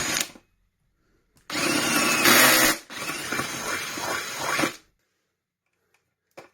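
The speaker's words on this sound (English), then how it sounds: "But I need to make these 2 holes here just a little bit wider." A power drill widening two holes in replacement trim for a vintage Electrolux Z302 vacuum cleaner, two loud close bursts of whirring, separated by a short gap, with quiet before and after.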